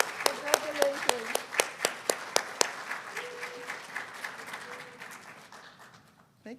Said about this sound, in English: Round of applause to all the graduates